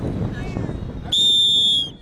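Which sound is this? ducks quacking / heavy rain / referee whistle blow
referee whistle blow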